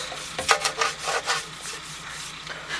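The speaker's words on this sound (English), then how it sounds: "I've had to get some fine grade sandpaper" Fine-grade sandpaper rubbing over the plastic of an Astor BPJ "Quality 5" radio under restoration: a run of short, irregular scratchy strokes at close range, stronger early and then settling into softer rubbing, with no voices.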